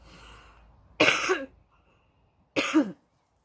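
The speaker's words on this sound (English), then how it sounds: "Still got a little bit of a cough." Two separate coughs, close and clear, about a second and a half apart in an otherwise quiet outdoor garden setting, each a short harsh burst.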